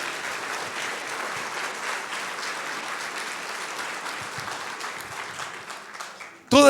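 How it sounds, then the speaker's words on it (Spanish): A church congregation claps together during a worship service, a dense, steady wash of applause lasting several seconds before it cuts off abruptly at the end. "Si le va a aplaudir al Señor, apláudale fuerte"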